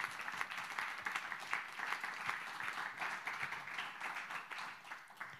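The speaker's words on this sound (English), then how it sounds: "Please give her a big warm round of applause" An audience at a hardware and technology talk gives a warm round of applause, steady dense clapping from a sizeable crowd that swells and eases slightly, heard at moderate distance with no talk over it.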